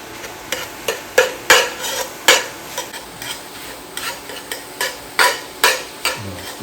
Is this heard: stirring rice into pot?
yes